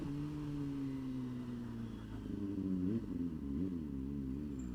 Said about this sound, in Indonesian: Ini suara motor saya, apakah kedengaran atau tidak?